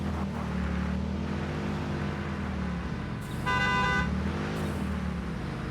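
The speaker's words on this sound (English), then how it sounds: "I can hear the horn" A vehicle horn honks in the game Satisfactory, one steady tonal blast of about a second over a constant low engine rumble, loud and close, with a second brief burst just after.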